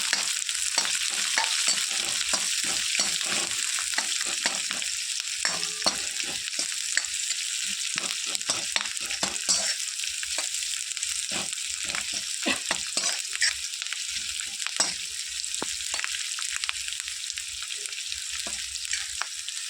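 Sliced onion for kanda poha sizzling steadily in a hot pan, with frequent scraping stirs of a spatula clicking through the continuous close frying hiss; no talking.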